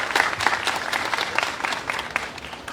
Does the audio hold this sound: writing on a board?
no